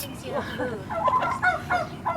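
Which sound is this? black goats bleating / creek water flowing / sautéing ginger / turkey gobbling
turkey gobbling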